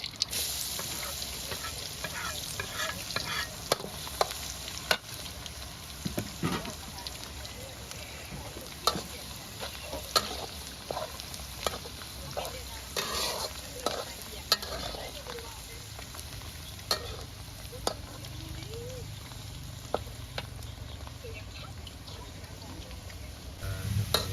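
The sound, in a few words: garlic frying in a pan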